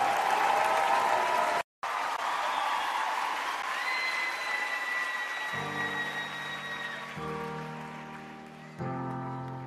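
Sustained applause and crowd cheering for a French singer at a live concert, loud and continuous with a brief dropout, then fading as instrumental music with sustained tones comes in underneath.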